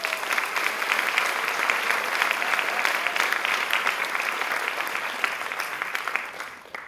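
A large audience claps for the judges at an awards ceremony, a dense, steady wash of applause that holds strong for about six seconds before tapering off.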